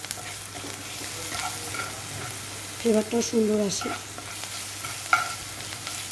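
Sliced onions fry with a little sugar in a pan, sizzling throughout while a spoon stirs and scrapes them in short bursts and one sharp clink, under a brief stretch of someone talking.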